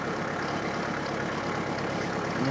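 A tractor engine idles steadily as it is parked on a driveway, a low, even rumble with no talk over it.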